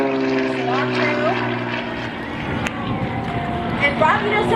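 A propeller airplane flying at the Hemet-Ryan air show in 2011, a droning engine tone that shifts in pitch as it passes, heard under a close announcer talking over a loudspeaker.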